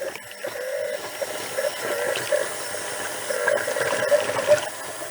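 An old pump set in a tub runs and moves water, making a steady hiss and gurgle with a whining mechanical tone that comes and goes.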